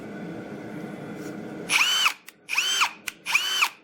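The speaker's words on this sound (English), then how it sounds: "Okay, self-feeding spade bit." Brushless hammer drill in drill mode, second gear, boring holes with a self-feeding spade bit, three loud close whining bursts following quieter background handling noise.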